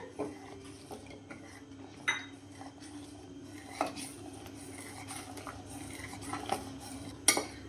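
A spoon stirs milk and soaked poha in a metal pot, with scattered clinks and scrapes against the pot sides over a low kitchen background, no talking.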